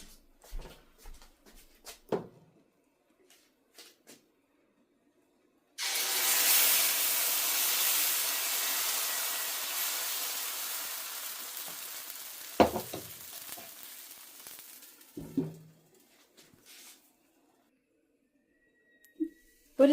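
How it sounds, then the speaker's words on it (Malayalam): A bean dosa made from an all-beans batter sizzles loudly on a hot pan, a steady frying hiss that starts abruptly and fades slowly, with scraping and clinks of a utensil before and after. "ബാക്കിയും ഉള്ള മാവും കൊണ്ടുകൂടെ നമുക്ക് രണ്ട് മൂന്ന് ദോശയും കൂടെ ചുട്ടെടുക്കാം"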